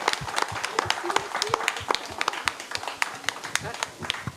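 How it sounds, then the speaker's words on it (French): A studio audience at a televised Téléthon charity broadcast gives sparse applause, individual claps standing out as close, distinct snaps with a lighter crowd patter behind them and a few voices murmuring through. "un tonnerre d'applaudissements"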